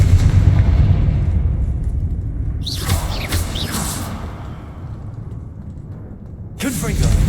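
Confringo blast curses in Hogwarts Legacy erupt as rumbling booms with whooshing bright bursts, one near the middle and another near the end, over a continuous low roar; a voice is present.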